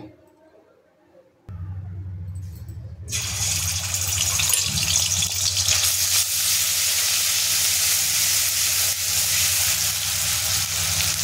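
Ginger garlic paste hits hot oil in a kadhai with a sudden loud, steady sizzle and hiss that fills the rest of the stretch after a quiet start.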